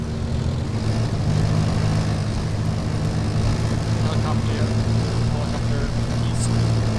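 A helicopter in a military video game flies nearby during a woodland Naval Infantry mission, with a steady, loud rotor and engine drone running the whole time.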